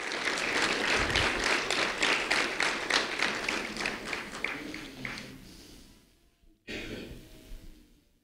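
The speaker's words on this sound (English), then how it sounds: "A round of applause for Daniel Zelmer," An audience gives a round of applause at an award event as a third-grade student is called to the front, dense steady clapping that fades out, then a short burst of clapping resumes before tailing off.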